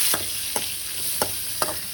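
Chopped shallots and garlic sizzle in hot oil while a spoon stirs the pan every half second or so, a steady hiss broken by soft scraping strokes.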